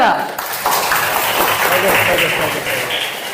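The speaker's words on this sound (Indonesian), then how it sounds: "tepuk tangan untuk Zahra" Schoolchildren applauding a classmate in a classroom, a dense, steady patter of many small hands clapping together at close range, with children's voices mixed in.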